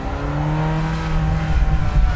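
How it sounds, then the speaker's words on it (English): A 1989 Ferrari Mondial T engine accelerates up close, a steady rising drone that swells and roughens toward the end with no talk. "The sound delivers the Ferrari sound."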